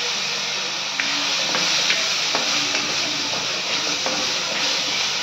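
Ingredients sizzle steadily in a hot pan for a chicken dish, a loud continuous hiss with small pops and clicks scattered through it, close up and without speech.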